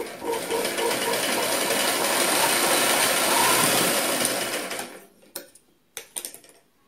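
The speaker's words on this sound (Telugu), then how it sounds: "ఫాల్ అంచు మడత పెట్టి కుడుతున్నానండి లోపల వైపుకి." A sewing machine stitches the folded edge of a saree fall, running a fast, continuous whir for about five seconds, then stopping, followed by a few faint clicks and handling sounds.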